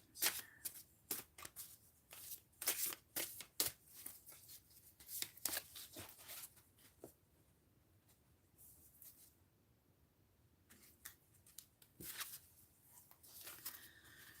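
Repeated crisp riffling and snapping of oversized cards being shuffled by hand in bursts, with a quieter pause before the shuffling resumes.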